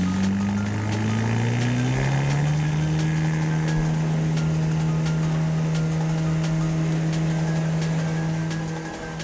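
Cessna light aircraft engine during taxi and takeoff on a runway, a loud steady drone that rises in pitch early on and then holds a constant roar throughout, alone without talk.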